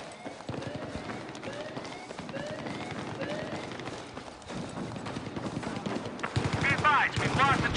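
Gunfire from the Xbox 360 video game Battlefield 3 as a shotgun is brought out, with repeated shots and clattering game sounds running through, growing louder and denser near the end, with voices in the background.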